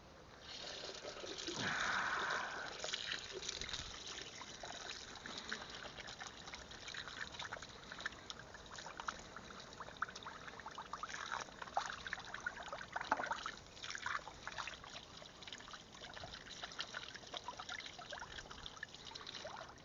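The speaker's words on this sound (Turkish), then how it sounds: "Şimdi yıkayalım elleri." Hands being washed under running water on a farm: a soft, steady trickle of water flows for about twenty seconds, louder at first and then settling into a quiet, even stream, with no talk.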